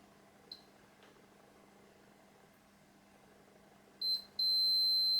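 A multimeter beeps during continuity testing on an Amiga 500 Plus circuit board: a brief chirp early on, then a clear, sustained high-pitched tone near the end over quiet background hum.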